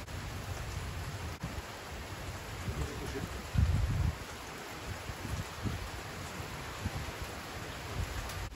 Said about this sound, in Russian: что будет такой дождь, такой ливень, и так будет нас мочить всех